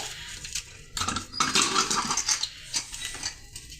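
A pressure cooker is set down on a stovetop after its steam is released while boiling potatoes, giving a few close metallic clanks and clatters, the loudest burst in the middle, with no talking.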